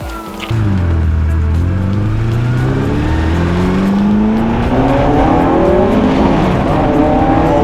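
A loud TVR Cerbera sports car engine revs up and accelerates hard, its pitch climbing through several gear changes, heard close from inside or beside the car.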